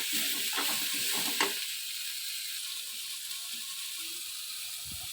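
Chickpeas sautéing in a pan for an idli kadalai kurma: a steady hiss and sizzle, with scraping, clicking stirs bunched in the first second and a half, then sparse light taps.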